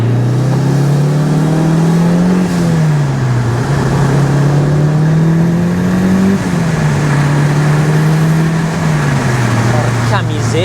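A Mitsubishi Lancer Evolution VI engine revs hard through several gear changes, pitch climbing and dropping in steady cycles, loud and close, with a voice talking over it.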